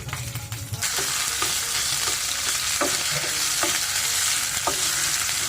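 Bay leaf, cinnamon, cardamom, cloves, peppercorns, ginger and garlic paste fry in hot oil with a dense, constant sizzle, while a spoon scrapes and taps the pot at a slow, irregular rhythm.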